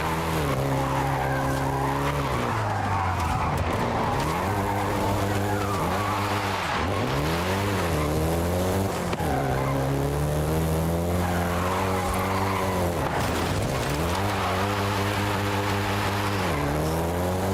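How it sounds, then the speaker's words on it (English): A Volkswagen Golf GTI in Forza Horizon 5 revs hard with repeated rising and falling engine pitch as it shifts, mixed with long tire squeals and skids, loud and continuous throughout. "including the Golf GTI you're driving right now."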